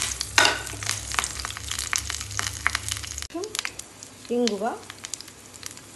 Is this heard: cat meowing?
no